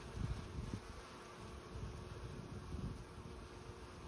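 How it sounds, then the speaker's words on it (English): Honey bees in hot weather buzzing around two active hives: a faint, steady, close hum with no talk. "Bees are doing really well,"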